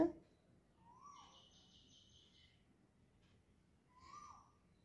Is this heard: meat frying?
no